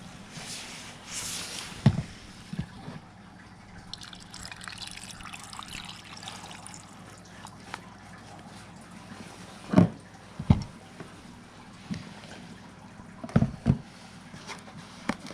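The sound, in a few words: water being added to rock tumbler barrel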